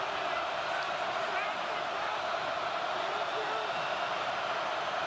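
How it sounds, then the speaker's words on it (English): A steady, dense roar from the crowd at a Colts at Chiefs NFL divisional playoff football game fills the background without pause, with no clear peaks or individual cheers. "That crowd noise certainly helps."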